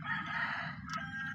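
A rooster crows in one loud, drawn-out call close by, steady and strong, then tails off with a short break near the end.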